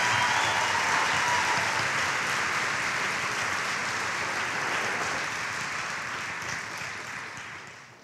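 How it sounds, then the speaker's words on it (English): Sustained audience applause fills a 2019 awards show hall as a middle school principal is honored, a dense, steady wash of clapping that holds strong for several seconds and then gradually tapers off near the end. "Let's give a round of applause for Alabama's Middle School Principal of the Year, Andrea Dennis of Scarborough Middle."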